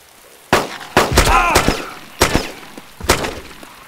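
Gunfire in the video game DayZ: five sharp, loud shots spaced irregularly, with a quick double report near the start and short ringing tails between bursts.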